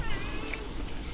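A single short cat meow, fairly close, over quiet background noise.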